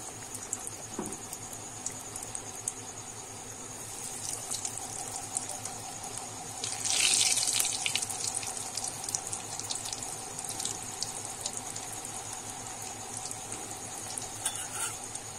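Vetki fish fingers lowered one by one into hot oil give a steady, close frying sizzle that swells into a louder crackling burst partway through, then settles back to an even hiss with no talking.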